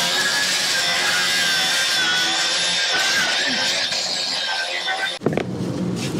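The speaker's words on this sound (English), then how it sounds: "I'm going to show you how to do it with a grinder" An angle grinder strips old silicone sealant off the metal flashing around a chimney pipe during a DIY leak repair, a loud continuous high whine with a steady grinding rasp that cuts off sharply near the end.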